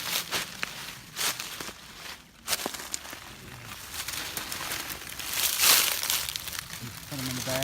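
Knife cutting morel mushrooms outdoors on rough ground, with crunchy snips and rustling of stems and debris scattered through the clip, a louder crackling burst near the end, close by and under occasional voices.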